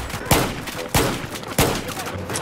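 Three spaced pistol shots ring out in a Battlefield 4 Gun Master match, each a sharp loud crack with a short tail, heard over steady battlefield ambience.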